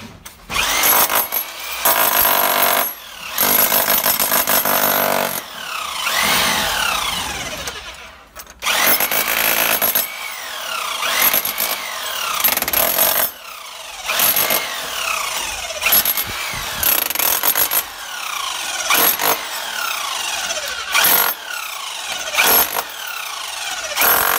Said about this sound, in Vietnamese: bây giờ chúng tôi test trực tiếp cái máy khoan đục bê tông hút Panda